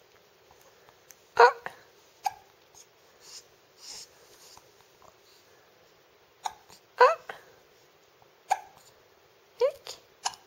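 A baby hiccups repeatedly, each small sharp hiccup coming every second or two at a soft, close level, with a brief quiet adult voice in between.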